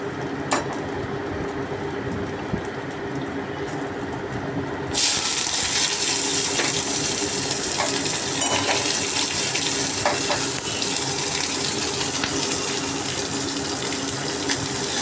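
Yardlong beans hit a hot pan with onion, dried chilli and spices, bursting into a loud, steady sizzle after a quieter stretch of stirring with occasional clinks of a spatula.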